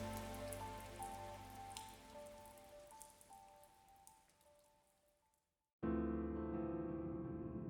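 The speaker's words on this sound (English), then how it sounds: "Where's this rain coming from?" Rain falling in the video game Scarlet Nexus, a steady patter with low rumbling and a faint tonal hum, cutting briefly to silence before a denser, louder wash of rain and ambience resumes.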